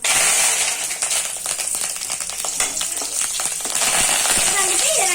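Curry leaves sizzle and crackle in hot oil while tempering with mustard seeds and dal. A steady, dense frying hiss runs throughout, with scattered pops.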